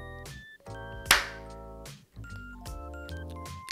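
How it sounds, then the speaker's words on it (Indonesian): One sharp hand clap, recorded on an Audio-Technica ATR2100x dynamic USB/XLR microphone, lands between stretches of someone speaking in a room. "tepuk tangan ya."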